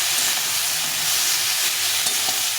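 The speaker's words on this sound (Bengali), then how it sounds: "দিয়ে এটাকে ভালো করে ভেজে নিতে হবে" Vegetables and small chanda fish fry in a pan for a Bengali chachchari, giving a steady, close hiss and crackle of frying throughout, with no talking.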